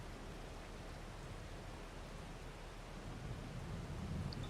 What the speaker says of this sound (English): Really like the sound of the thunderstorm.